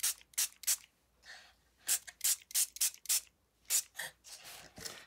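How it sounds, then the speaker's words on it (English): Spray bottle spritzing water onto a coffee cup treat holder craft, a close series of quick hissing bursts, some in rapid pairs and triplets, with quiet gaps between them. "I'm just going to grab the spritz bottle"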